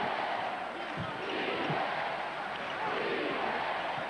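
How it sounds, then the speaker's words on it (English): A basketball arena crowd at a 1996 Chicago Bulls vs Orlando Magic Eastern Conference Finals game chants defense in a dense, sustained roar, with occasional sharp bounces or thuds cutting through the steady crowd noise. "Chant of defense from the crowd."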